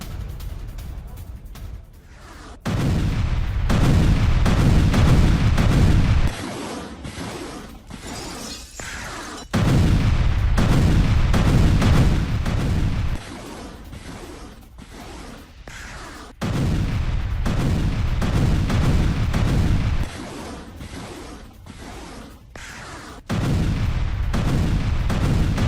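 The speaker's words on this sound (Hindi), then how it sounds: "टॉस 1A MLRS से रूसी बेस पर हमला किया गया" Repeated bursts of heavy explosive impacts from a TOS-1A thermobaric rocket strike on a Russian base in Avdiivka, loud booming blasts in long rumbling waves separated by brief quieter gaps, with faint voices in the background.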